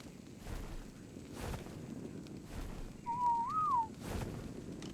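A player character in the video game Ark: Survival Evolved whistles one short, wavering tune of about a second, clear over a steady bed of wind and ambient game noise.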